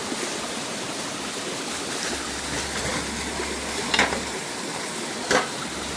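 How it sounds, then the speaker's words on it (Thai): Cool jungle waterfall pouring steadily with a broad, even rush of water, close and constant, with a couple of brief knocks near the end. "น้ำตกเย็น"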